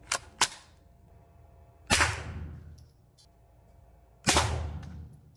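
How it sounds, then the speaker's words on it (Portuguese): Sharp gunshots from a .22 LR semi-automatic rifle, normal ammunition then rounds loaded with extra powder: two quick cracks close together, then two more single shots spaced a couple of seconds apart, each echoing briefly. "Primeiro tiro é a munição normal e o segundo é o 22 anabolizado."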